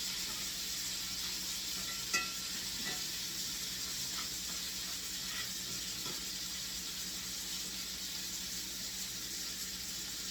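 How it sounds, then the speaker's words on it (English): Bacon crisps in a pan with a steady, close hiss of sizzling fat and one brief knock near the start, without any voices. "Stir this because we want this to get kind of crispy. I like crispy bacon."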